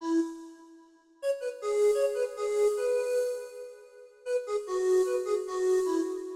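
A layered percussion sample of metallic, bottle-like tones rings out in sustained, shimmering hits, with a fresh burst of strikes entering partway through.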